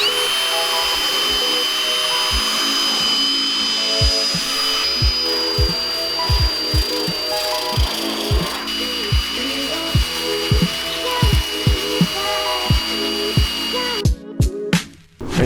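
Power sanding on the fenders of a junk Nissan 240SX under restoration, a loud continuous whining tool with repeated knocks and clicks throughout, a sharper burst of noise near the end.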